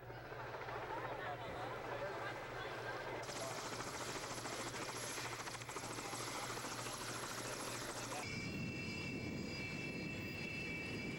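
A loud, steady engine roar with a whirring drone, like a helicopter running close by, continuing without pause and shifting tone partway through.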